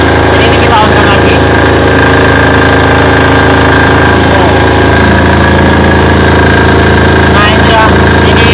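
A Potenza generator engine, a custom full-electric AC 220 unit, runs loud and steady throughout, its continuous drone holding without a break and a brief knock near the start.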